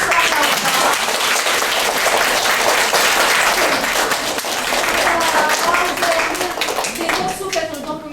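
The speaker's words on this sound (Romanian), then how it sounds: "Vă rog frumos să vă aplaudați." Audience applauding writer Ernesto Mihailescu at a school class event, steady dense clapping from a crowd filling the room, with a voice speaking over it near the end.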